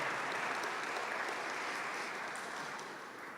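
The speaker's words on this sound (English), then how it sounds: "Let's give a round of applause for them who continue to support this good work." At a graduation ceremony for the ARNIC class of 2018, an audience claps steadily for board members, dense, even applause from a crowd in a hall that slowly fades.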